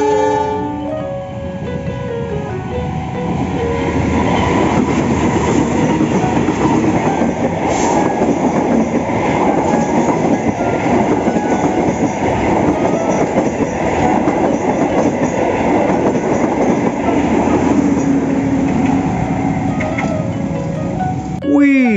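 A toy CC206 KAI locomotive pulling a cargo wagon runs continuously with a loud, steady mechanical whir and rattle that fills the whole stretch, with a brief sound at the very end.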